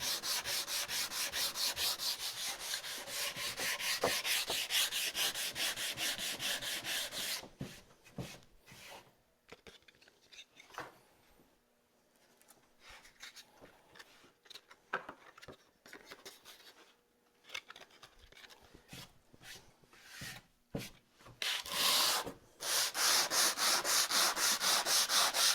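Wood is sanded by hand in a workshop, loud and close for several seconds of rapid back-and-forth rasping strokes, then quieter, sparser scrapes and pauses before the vigorous rubbing returns at the end.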